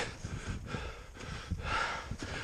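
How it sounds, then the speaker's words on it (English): Heavy, labored breathing from a climber topping out of a snowy mountain gully in winter, steady rhythmic huffs close to the mic over a breezy outdoor background. "Excuse the heavy breathing."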